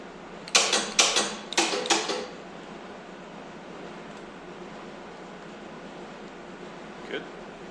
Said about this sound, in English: Up is winch in, winch out, winch in.